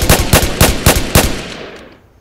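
Rapid bursts of automatic gunfire from a Roblox video game, about five close, loud volleys in quick succession that then trail off into a fading echo.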